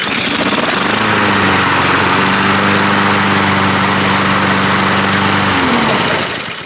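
A gas lawn mower with auto choke fires up on the first pull and runs at a loud, steady, close engine drone for several seconds before easing off at the end, with no talking.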